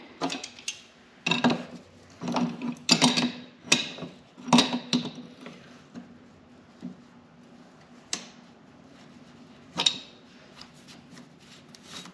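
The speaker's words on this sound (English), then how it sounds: "these two nuts have to come off" A 15-inch adjustable wrench working tight nuts loose on a Honda Big Red ATV during a bearing and chain job, a series of sharp metallic clanks and clicks, irregular and close, with quiet gaps between.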